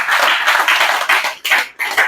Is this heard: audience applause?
yes